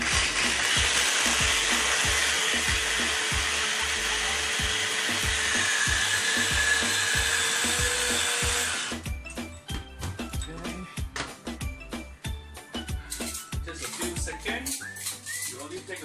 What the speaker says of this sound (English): This is my favorite blender